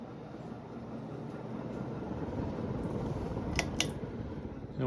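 A Casablanca Four Seasons 38-inch ceiling fan running at full speed with its light on gives a soft, steady whirring hum, with a couple of faint ticks near the end.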